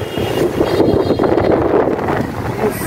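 Strong wind buffets the microphone outdoors on a rainy day, a continuous loud rumbling gust with no speech.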